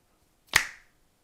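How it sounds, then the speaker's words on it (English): One crisp, close finger snap rings out alone in a quiet room, with a short decaying tail, captured as a sample in the Koala Sampler app. "And now you can get double the snap"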